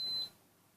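An SA 107 alarm system sounds a single short, high-pitched electronic beep after being armed, followed by quiet room tone.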